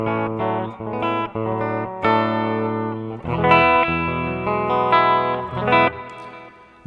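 An electric guitar played through the overdrive effect of a Mooer GE200 multi-effects unit rings out in gritty, sustained chords and short riffs, loud and close, alone without talking.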